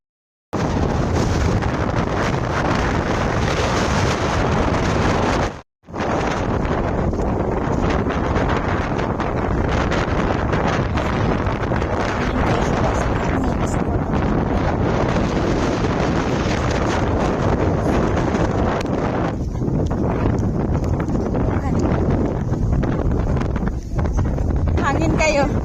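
Strong wind buffets the microphone on a mountain summit in Hong Kong, a loud continuous roaring rush that drops out briefly once, with a person speaking faintly beneath it.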